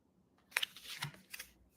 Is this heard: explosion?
no